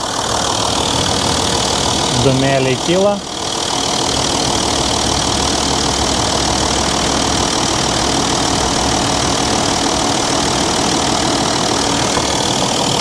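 A BMW engine idles steadily while engine cleaner is sprayed into it, giving an even mechanical drone throughout; a voice speaks briefly near the start.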